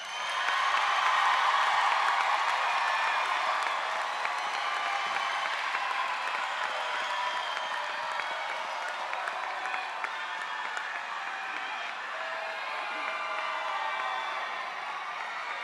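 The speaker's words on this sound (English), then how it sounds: "please give them a round of applause." An audience at a high school graduation ceremony applauds and cheers at length, a dense, sustained roar of clapping with scattered whoops that eases slightly toward the end, heard from within the crowd without speech.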